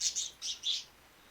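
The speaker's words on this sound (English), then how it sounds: "the best bird noise ever" Bird chirping in short bright bursts, four quick high tweets in the first second, close and fairly faint, then quiet with no talk.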